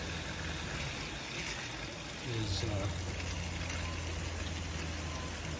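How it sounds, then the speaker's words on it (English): Camper water pump pushing hot and cold water through a shower, a low steady hum that starts partway through and continues evenly under faint hiss and splashing, with a short spoken word. "So you can hear the pump"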